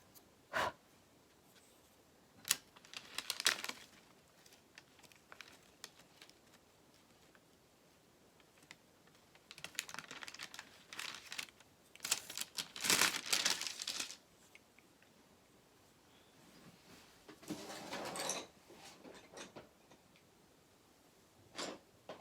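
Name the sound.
digging through drawers of colored pencils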